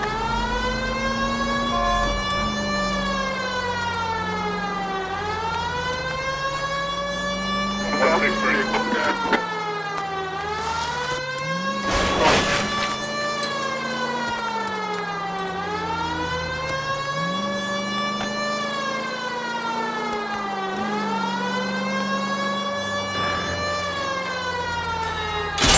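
A police car siren in the video game L.A. Noire wails loudly and continuously in repeated rising and falling sweeps, with faint traffic noise beneath.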